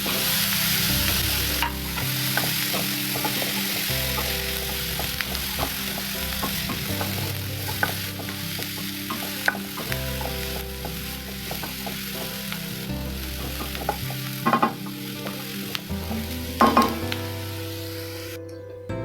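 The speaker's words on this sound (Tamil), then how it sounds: "நல்ல ஒரு கோல்டன் ப்ரௌன் ஆகிற வரையும் வதக்கிக்கோங்க" Onion, garlic and green chili sauté in melted butter in a pan for a vegetable soup, with a steady soft sizzle and repeated scraping and stirring clatter from a utensil, close and continuous.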